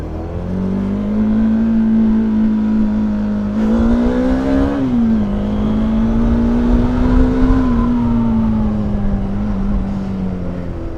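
A 400cc motorcycle engine revs loud and close while the bike stands on a Ladakh ride, holding a steady idle-like drone, then swelling in pitch around the middle before easing back, with no voices over it.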